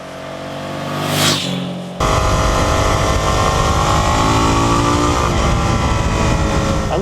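A 2017 Suzuki V-Strom 650 motorcycle's 650cc engine idles low, swells briefly, then snaps into a loud, steady high rev that holds with a throaty mechanical drone.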